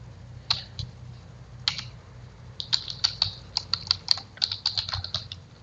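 Code being typed on a computer keyboard, heard as fast, irregular bursts of crisp key clicks with short pauses between runs, close and fairly quiet, with no talking.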